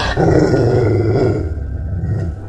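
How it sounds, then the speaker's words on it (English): A dog growls as a sound effect, a loud, low, rumbling snarl that starts abruptly, holds steady, then tapers off near the end, with no other sounds. "The dog stopped eating and immediately growled at the officer."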